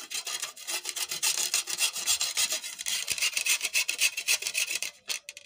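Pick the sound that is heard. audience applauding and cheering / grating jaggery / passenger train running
grating jaggery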